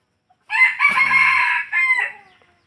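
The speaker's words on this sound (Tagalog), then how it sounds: "Kakukuha lang yan pero nasipag tumilaok, ang tapang pa." A single rooster, a mixed jungle-fowl breed kept for catching wild fowl, crows once loud and close, a drawn-out call of about two seconds in two segments against silence.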